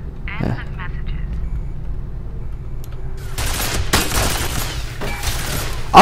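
Turret gunfire in the shooter F.E.A.R., coming in loud bursts in the second half over a low mechanical drone, with someone talking over the shooting.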